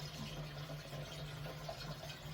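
Water runs steadily from the hand-wash tap on top of a toilet tank in a room in Japan, a soft continuous trickle with a faint low hum underneath and no one speaking.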